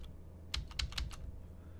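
Keys tapped on a computer keyboard to set game controls for the 8-bit game Dynamite Dan, a short cluster of four or five quick clicks, close and fairly quiet, with no talk.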